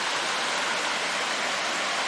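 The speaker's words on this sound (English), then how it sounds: "it's really nice to be able to see the water flowing here" A park creek flows in a steady, even rush of running water, fairly soft and constant throughout, with no talking over it.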